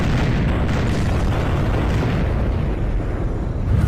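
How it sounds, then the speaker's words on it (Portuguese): A huge cartoon explosion blows up an entire minefield full of apps in the Animator vs Animation stick-figure battle, a loud sustained rumbling boom that fills the whole span without letting up. "consegue direcionar o Firefox para explodir todo o campo minado"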